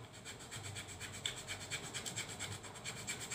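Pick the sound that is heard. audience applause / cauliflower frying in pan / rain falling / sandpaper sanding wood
sandpaper sanding wood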